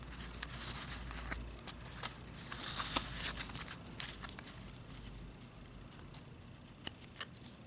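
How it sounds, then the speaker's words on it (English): A deck of cards is shuffled by hand at close range, giving quiet, irregular bursts of riffling clicks and soft slaps over several seconds, with no talking. "Now I shall shuffle them so we don't know exactly where they are."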